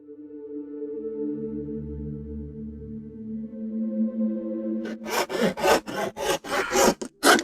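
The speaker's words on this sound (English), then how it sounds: "I like these saws that cut on the backstroke because it's like using a funky knife that just cuts anything" Hand saw that cuts on the backstroke working through tree bark, heard as a run of close, rhythmic rasping strokes after a steady tonal hum at the start.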